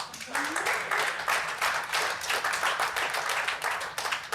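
A stand-up comedy audience claps in a dense, rhythmic burst of many hands, close and fairly loud. The clapping pulses steadily throughout with a brief cheer at the start.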